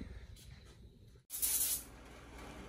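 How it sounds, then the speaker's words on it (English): A spray gun hisses as a car is spray painted in a backyard garage, a short loud burst of spray after a brief silence, fading into a softer steady hiss with faint background voice. "We're about to go ahead and spray this bad boy."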